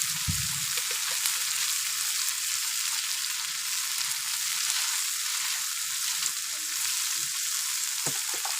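Chopped garlic, tomato and chili sizzle steadily in hot oil for chicken chow mein, a dense, even hiss with occasional stirring clinks and a few soft pops, close and fairly loud with no talking.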